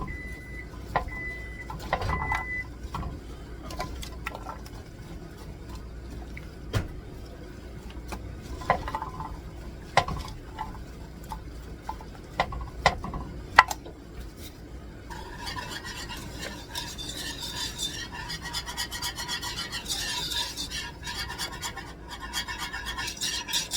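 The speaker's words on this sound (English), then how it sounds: "Once I mix it up, I'll know if I have enough ham." A spoon scrapes and stirs ham into scalloped potatoes in a dish, soft rasping strokes with scattered sharp knocks, turning to a denser, wetter mixing sound in the last few seconds.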